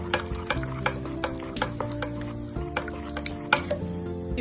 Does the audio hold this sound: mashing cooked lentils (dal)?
yes